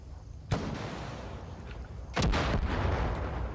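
Rocket launcher fire in Far Cry 5 strikes a vehicle: a sharp blast, then a second louder explosion about two seconds later that rolls into a sustained, rumbling roar.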